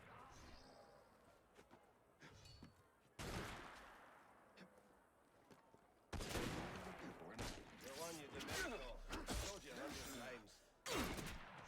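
Sharp bursts of gunfire in the Assassin's Creed Unity game, with several distinct volleys and crackling shots, the last one near the end, set against quieter stretches where someone talks.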